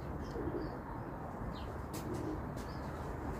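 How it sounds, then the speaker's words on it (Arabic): Pakistani pigeons coo softly at close range, a few low throaty calls over a steady outdoor background hum with faint chirps, and no talking. "هاي هاي حمام والله باكستاني كلش قوي"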